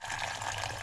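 Hot water is poured outdoors in a steady, splashing stream that runs loudly and evenly for the whole short stretch, with no talk over it.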